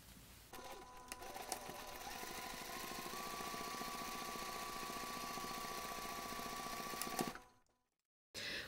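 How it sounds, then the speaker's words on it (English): A sewing machine stitches the side seams of a fabric backpack in one steady, fast mechanical run of about seven seconds. It stops sharply, leaving a short silence. "Now you can take this to the machine and sew both seams."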